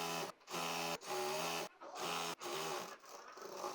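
Sewing machine stitching suit fabric for a skirt, running in several short bursts of steady whirring separated by brief stops, quiet and close.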